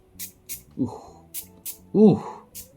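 A bottle of Fox Sniff Coretto extrait de parfum, a spicy cardamom scent, gives several short hissing spray bursts in a steady rhythm, close and fairly loud, with a person speaking briefly between the sprays.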